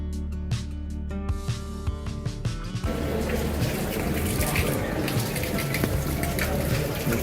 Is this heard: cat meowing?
no